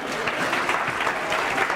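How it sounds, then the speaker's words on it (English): A lecture-hall audience at a science lecture gives a round of applause for a participant, a dense, close and steady patter of many hands clapping together with no talk over it. "A big round of applause for Mark."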